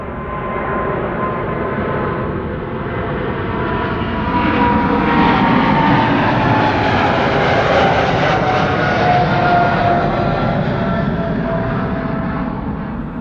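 Airliner departing at Amsterdam Schiphol Airport, a loud, continuous broadband engine roar that swells to a peak midway and holds steady, heard from nearby without any talk.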